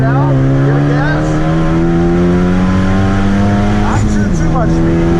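A Ford Focus ST engine on a race track holds a loud, steady drone that climbs in pitch under throttle, dips sharply near the four-second mark as it shifts, then pulls up again, with a spoken voice faintly over it.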